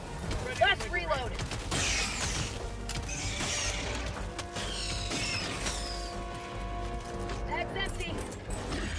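Weapon reloading in Helldivers 2, with mechanical clicks and ratcheting metal clatter amid crashing impacts and busy battle noise, and voices talking over much of it.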